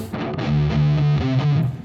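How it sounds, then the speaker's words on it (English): A heavily distorted electric guitar plays a short, gritty Helloween riff of sustained low notes, loud and close, with no voices. "you hear the distortion is really evil"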